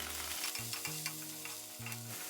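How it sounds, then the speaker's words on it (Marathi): Chopped tomato hits browned onions in a pan for mutton dabba gosht and is stirred. The frying is a quiet, continuous crackle with soft scraping strokes over a low steady hum, and no voices. "कांदा छान आपला ब्राऊन झाला आहे त्यामध्ये लगेच बारीक केलेला एक वाटी टोमॅटो घालून घेते"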